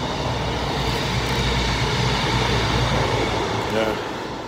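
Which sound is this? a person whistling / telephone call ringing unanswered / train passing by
train passing by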